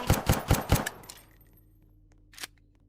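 A new pistol firing in a video game: a quick burst of four or five sharp shots in fast rhythm, then decaying echo and one more lone shot after a pause.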